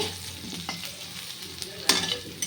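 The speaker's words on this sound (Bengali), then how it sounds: "এই যে আলুটা দিয়ে দিলাম তেলের পরে তো আলুটা একটু লাল লাল করে ভেজে নেব" Potatoes frying in a little oil in a wok with cumin, bay leaf and dried chilli, a steady close sizzle broken by a few sharp bursts of spattering and stirring.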